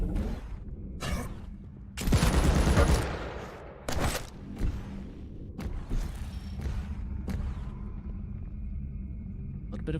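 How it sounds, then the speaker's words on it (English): Rapid machine-gun bursts in a Quake match, a loud dense barrage near the start, then scattered sharp shots and booms over steady game rumble, with a commentator's voice running throughout. "Well placed machine gun bullets there"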